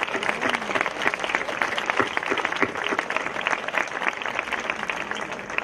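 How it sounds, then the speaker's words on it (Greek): Sustained applause from an audience at a traditional dance festival, dense steady clapping holding at even loudness throughout with a faint murmur of voices underneath. "Ένα μεγάλο χειροκρότημα για όλους τους συλλόγους μας"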